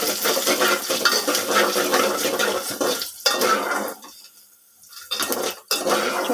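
Spoon scraping and clattering against a cooking pan as ingredients are stirred over heat for a tamarind pulusu, a steady metallic rattling with faint sizzling and brief pauses.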